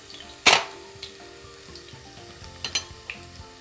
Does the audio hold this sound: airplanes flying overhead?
no